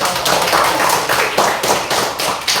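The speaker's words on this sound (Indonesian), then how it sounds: "Iya, tepuk tangan." A classroom of students applauds, dense hand clapping rising and falling in several waves, loud and close.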